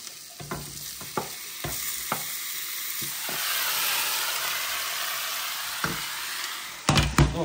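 Oil sizzles steadily in a frying pan, with scraping stir strokes and utensil clicks across the surface. A louder clatter comes near the end.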